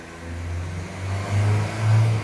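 A Nissan NV300 van with a blocked diesel particulate filter idles at 2,500 RPM, a steady close engine drone with a low hum that swells slightly twice.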